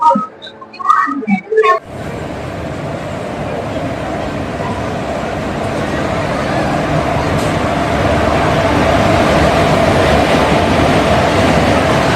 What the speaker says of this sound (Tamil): நம்ம போகக்கூடிய நாகர்கோயில் சூப்பர் ஃபாஸ்ட் எக்ஸ்பிரஸ் வந்துட்டு இருக்கு